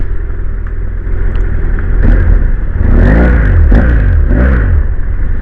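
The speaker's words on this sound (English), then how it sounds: "That I can manage to get around all this traffic." Road traffic passing close by on a commute, several vehicles sweeping past one after another with rising and falling engine and tire noise over a constant loud rumble.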